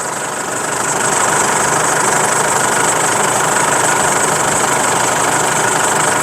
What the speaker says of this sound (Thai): สตาร์ทเครื่องยนต์แล้วนะครับผม